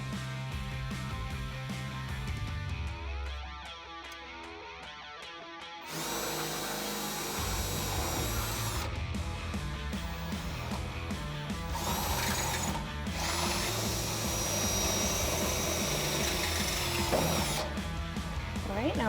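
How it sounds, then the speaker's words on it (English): A power drill with a 5/16 inch bit bores mounting holes for tubular fender flares on a Jeep Wrangler JK, whining in several loud bursts that change pitch as it bites into the metal, with pauses and mechanical clicks between. "So now we can step up to the actual size, which is gonna be a 5/16 inch drill bit that you're gonna need."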